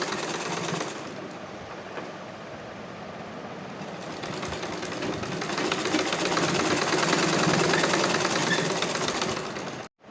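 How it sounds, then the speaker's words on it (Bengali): An electric sewing machine stitches cloth in a continuous rapid mechanical whir that swells slightly louder midway, close and steady before stopping abruptly at the end. "এইভাবে কাপড়টা উপর থেকে সরিয়ে একটা চাপ সেলাই মেরে দিচ্ছি।"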